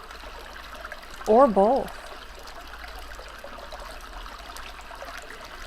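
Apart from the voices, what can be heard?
babbling brook, running water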